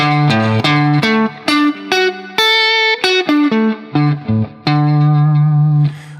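An electric guitar with distortion and effects plays a chord arpeggio, single notes stepping up and down in a steady, clear pattern, loud and close with no talking.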